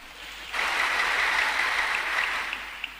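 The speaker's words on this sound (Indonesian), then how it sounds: "Tepuk tangan" Sudden applause from a church congregation during a sermon, a sustained even wash of clapping that starts abruptly and holds steady at moderate loudness.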